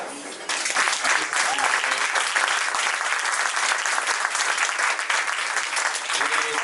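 Steady, dense applause from a live audience at a Paris literary festival prize ceremony, clapping loud and sustained for the third-placed winner, with no talk over it.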